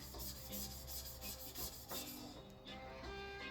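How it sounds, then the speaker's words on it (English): A restored Aritsugu yanagiba knife is polished on a sharpening stone in quick, repeated back-and-forth rubbing strokes, a soft gritty rasp at an even rhythm, close and quiet. "Polishing very incrementally, allowing all those bevel angles to just kind of blend together"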